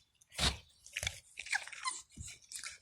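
Puppies eating food, with several close, crisp crunching bites in irregular bursts and soft chewing between them.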